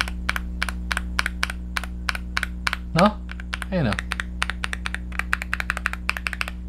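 Typing on a LEOBOG HI75C mechanical keyboard with a thick metal case and foam underneath, giving a steady run of close, solid clacks with two brief spoken words over the keystrokes.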